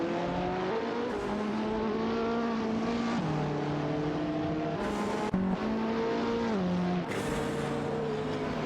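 Several racing-game McLaren 675 LT engines drone steadily throughout, their pitch climbing and then dropping sharply at gear changes, with a brief louder burst near the middle; no voices are heard.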